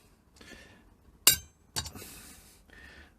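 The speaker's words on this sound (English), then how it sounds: "I'm now going to find a centre punch, which will mark it around about there." A centre punch strikes a metal air intake inlet on a Land Rover Discovery, giving two sharp metallic clinks about half a second apart, close and crisp, surrounded by faint handling noises and breathing.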